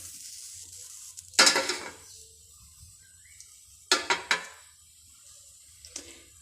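Grated coconut being roasted in a hot clay pot on the stove, with a few sharp scraping stirs of a spoon against the pot, quiet gaps between them and faint sizzling underneath.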